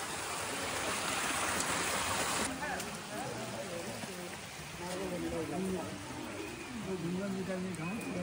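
Crystal-clear water streams steadily out of a small fish pond at Godawari, a soft continuous trickle and rush heard beneath people talking nearby.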